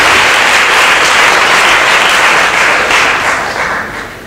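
Sustained applause from an audience at a school debate between two colleges, a dense wash of clapping that holds steady and then tapers off toward the end.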